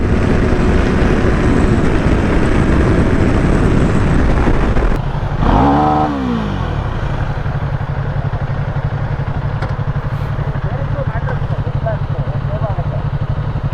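A KTM Duke 390 motorcycle runs with a steady engine drone throughout, rising briefly in a short rev around the middle, while people talk over it.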